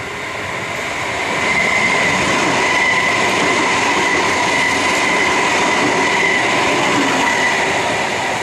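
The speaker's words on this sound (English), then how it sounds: "another train not stopping at the station" A train rushes steadily through Goodwood Station in Adelaide at speed without stopping, a loud continuous roar of wheels and rails with a faint high squeal, sustained without slowing.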